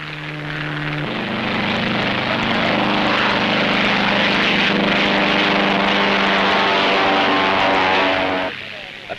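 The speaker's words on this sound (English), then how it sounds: "Another Dutch entry, Parmentier and Moll in the KLM Douglas." A 1930s air race propeller aircraft, a KLM Douglas, drones loudly and close with a steady engine roar and a pitch shift near the start, while a narrator talks over it, and the sound fades away at the end.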